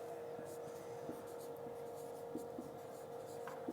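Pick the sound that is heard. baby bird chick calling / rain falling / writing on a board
writing on a board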